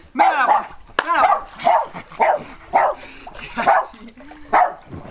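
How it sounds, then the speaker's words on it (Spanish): A dog barks loudly and repeatedly nearby, a rapid series of sharp barks and yips in a steady rhythm. "los ladridos son totalmente inevitables"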